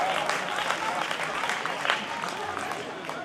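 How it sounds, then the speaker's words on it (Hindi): An audience claps steadily throughout at a school ceremony unveiling a statue of Bhagat Singh, a dense, continuous wash of applause with no break. "उस हिसाब से तालियां बजाओ आप"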